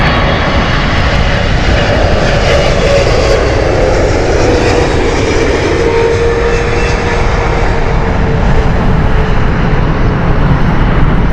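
An EgyptAir airliner at Heathrow Airport gives off a loud, steady engine roar that fills the whole stretch without a break, with no voices over it.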